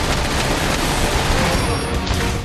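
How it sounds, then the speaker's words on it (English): Dense, continuous barrage of gunfire and explosions as an air raid pounds a turret in Transformers: War for Cybertron, loud and unbroken, with no clear pauses. "we got air raid on a fucking turret"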